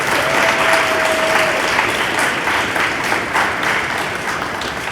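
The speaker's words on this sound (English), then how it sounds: "Would you guys give them a round of applause," An audience at a school eighth grade promotion ceremony applauds steadily, a dense wash of many hands clapping for about five seconds, loud and fading slightly toward the end.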